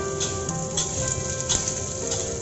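Onion and bell pepper are stir-fried in a pan for Hong Kong-style sweet and sour meat, giving a steady, moderate sizzle with a few faint clicks from the utensil.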